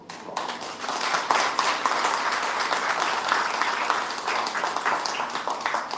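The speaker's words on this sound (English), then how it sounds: "Let's give this esteemed panel of lawyers a rousing round." A crowd gives loud, sustained applause for a panel of lawyers at a live Walk Against Fear event, dense clapping that starts suddenly and stays strong throughout.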